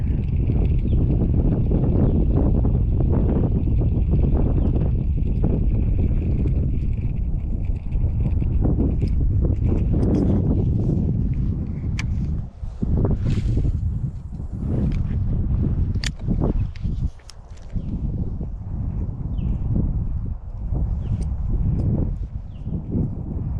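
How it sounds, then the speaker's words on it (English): Gusty wind blows across a northern lake during a fishing trip, buffeting the microphone with loud, low rumbling noise that swells and dips throughout, with sharp bumps and handling knocks later on. "It is a little windy, and hopefully that doesn't interrupt the audio."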